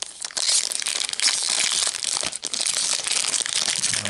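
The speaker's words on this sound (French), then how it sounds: "On va ouvrir un deuxième booster." A Magic: The Gathering booster pack wrapper torn open and crumpled, a loud, dense, close crackle of crinkling foil plastic filling the whole moment with no talk.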